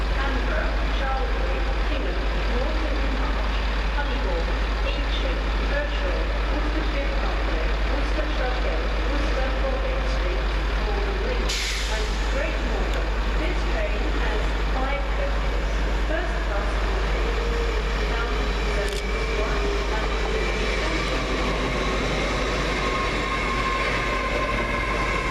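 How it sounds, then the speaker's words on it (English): Great Western Railway unit 800033, on the London Paddington to Great Malvern service, arrives at Reading station with a loud, steady rumble and roar throughout, briefly marked by a faint wheel squeal. "Next in is 800033, working the 1418 Great Western Railway service from London Paddington to Great Malvern."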